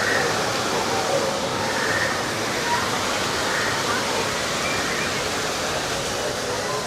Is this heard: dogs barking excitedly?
no